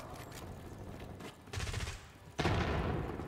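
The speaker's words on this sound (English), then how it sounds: "Frag thrown." In the Black Ops 6 video game, a frag grenade is thrown and bursts amid rattling gunfire, with two sharp blasts landing loud against a busy backdrop of shots.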